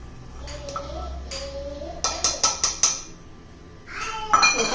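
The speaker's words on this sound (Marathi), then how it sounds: "आता खलबत्ता घेतलेला आहे याच्यामध्ये आपण खेचून घेणार आहे" Green chickpeas pounded in a stone mortar and pestle: a quick run of five or six sharp, ringing knocks close by, then a brief scraping grind, with quiet background hum.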